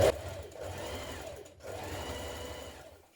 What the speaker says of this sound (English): stitching that seam that we've just created to our pocket